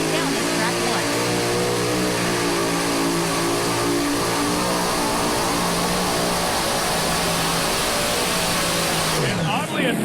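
A super modified pulling tractor roars continuously down the track at a tractor pull, its loud, dense engine note holding steady with a crowd and announcer faintly beneath it until the sound drops away near the end.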